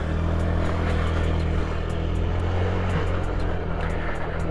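A 2008 Honda Zoomer 50 scooter engine runs after starting, a close, steady buzzing drone with an even, unbroken tone and no pauses.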